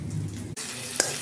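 Onion sizzles in a hot pan for a Bengali chal kumro chingri (ash gourd and prawn) curry, a soft steady frying hiss with a brief stir partway through.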